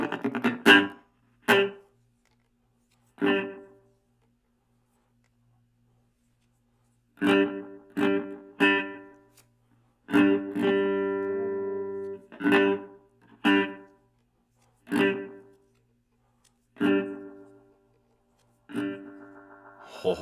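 A small nostalgic guitar amp's springy reverb feeds back on itself, sending out separate bursts of ringing, metallic tone spaced by silences, with one longer swelling wash in the middle.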